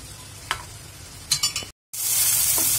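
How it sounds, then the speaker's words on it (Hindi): Okra is stirred in a hot pan with a soft, continuous sizzle, broken by a few quick spatula scrapes and a short silent gap before the frying noise returns louder; no speech. "इसको बराबर से मिक्स करेंगे और स्लो फ्लेम पे 5 मिनट के लिए ढक के पकाएंगे"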